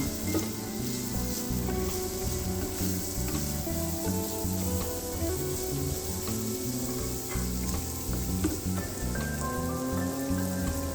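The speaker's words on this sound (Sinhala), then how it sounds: "හොඳින් කලවම් කරමින් බීලුණු ටික බැදෙන්න දෙන්න." Sliced onions fry in oil in a pan for a salmon stew while being stirred, giving a loud, steady crackling sizzle with scraping stirs throughout and no talking.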